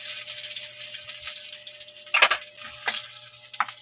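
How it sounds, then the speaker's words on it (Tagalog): Beef sautéing with garlic in a pan gives a soft, steady sizzle under a faint hum, broken by a few sharper crackling bursts as the meat is stirred. "Gigisahin ko ang aking baka"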